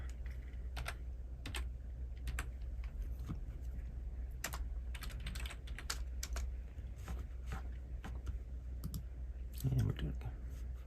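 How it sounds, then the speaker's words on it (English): Keys clatter on a computer keyboard in irregular bursts of clicks and short runs, close and fairly quiet over a low steady hum, with a louder cluster near the end. "I'll just type in, I should be able to find it pretty quick"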